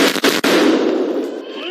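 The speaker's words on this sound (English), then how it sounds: "Officer Engelbert steps forward and fires, killing Audrey Hale." Gunfire in police bodycam footage from a school shooting response, two or three sharp loud shots in quick succession at the start, followed by a ringing, reverberant indoor decay.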